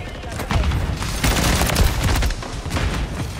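Gunfire in Modern Warfare 3 multiplayer, Season 3, a dense run of rapid shots and blasts filling the few seconds, loud and close, with a voice talking faintly underneath.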